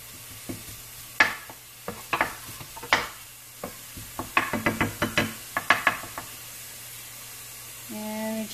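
Bacon fat sizzles faintly in a pan while a utensil scrapes and taps in quick irregular strokes, the clatter loud over a soft steady hiss.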